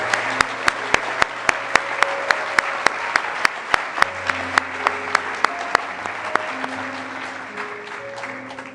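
Applause greets new computing professionals at a spring induction ceremony, a steady wash of clapping under sustained music tones and a regular, evenly spaced beat.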